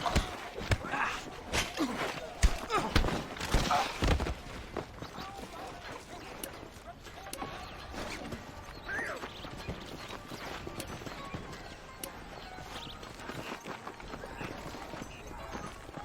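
Horse hooves clip-clopping in the Red Dead Redemption video game, a quick rhythmic clatter of hoofbeats under intermittent voices, busiest early and then continuing more softly.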